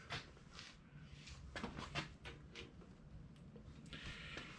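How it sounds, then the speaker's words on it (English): Opening the rear tire carrier on a vehicle fitted with a new rear bumper brings faint clunks and metallic scrapes, a few soft knocks scattered through a quiet, hissy background. "Go ahead and open up the tire carrier"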